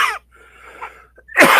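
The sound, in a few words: cough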